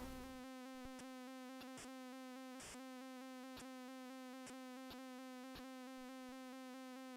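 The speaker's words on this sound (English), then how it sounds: "Oh, the bee's heading this way." A bee in the Commodore 64 game Smack Those Crazy Weeds gives off a steady, synthetic chip-tune buzz that drones without pause, punctuated by short clicking blips from the game.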